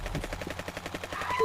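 A rapid, evenly spaced burst of automatic gunfire rattles steadily at moderate loudness as a sound effect, lasting just over a second.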